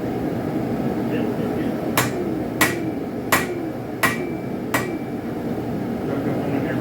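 A hammer forges a spike knife with five sharp metallic strikes at an even pace, each ringing briefly over a steady background hum.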